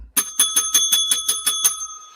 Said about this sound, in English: Tony, ring that bell.